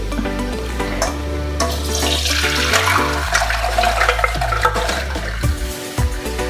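Water pours and splashes loudly and steadily for several seconds, a full rushing stream close by as cooking liquid is strained off boiled paya meat pieces.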